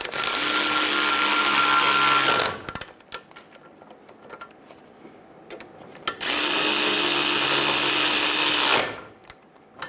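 A power tool snugs down the brake caliper bolts on a 2000–2007 Ford Focus during a front wheel bearing replacement. It gives two loud whirring bursts of about two and a half seconds each, with quieter clanks between them.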